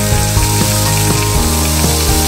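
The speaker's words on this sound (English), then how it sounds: "I'm going to flip it over. I'm going to sear the other side for 1 minute." A salmon fillet sears in a hot pan, giving a loud, steady, close sizzle that fills the whole moment without a break and has no voices over it.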